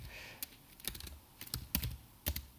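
Computer keyboard keys tapped while writing code for a 3D Snake game in Unity, irregular bursts of quiet, close clicks and clacks with short pauses between runs, no voices.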